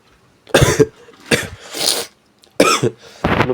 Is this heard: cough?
yes